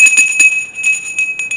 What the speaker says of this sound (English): They used to ring the bell.